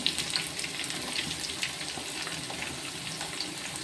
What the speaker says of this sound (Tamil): வெங்காயத்தை போட்டுருவோம்.